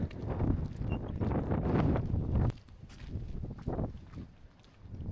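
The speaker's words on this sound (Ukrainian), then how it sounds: "це пориви вітру." Gusts of wind buffet the microphone outdoors at a mountain lift near a waterfall, a loud rumbling rush that drops off sharply midway, then returns in softer, uneven puffs.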